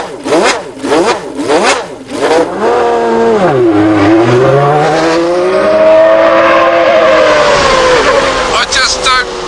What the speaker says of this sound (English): I am in Alain Prost's 1990 World Championship winning Grand Prix Ferrari